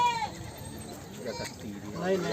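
Goats bleat here and there at a busy goat market, and several voices talk over them nearby.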